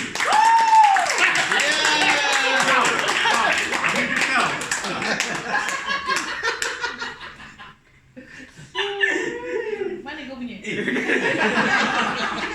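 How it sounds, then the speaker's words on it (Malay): Audience at a KMU kick-off event in 2024 clapping and laughing together, a lively crowd roar of applause and chuckles near the mic, dipping briefly to quiet and then rising again with more cheering and clapping. "So kita bagi tepukan orang jauh kita bagi tepukan kami."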